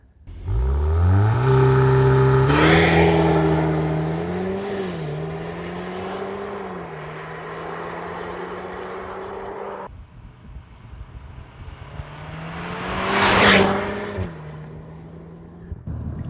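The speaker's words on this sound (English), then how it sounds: "we have a new exhaust system, Akrapovic. So how that sounds, you'll find out right now." A 2024 Audi S3 facelift with an Akrapovic exhaust revs up to a loud, rising growl, settles into a steady idle hum, then blips again with a sharp roar before dropping back.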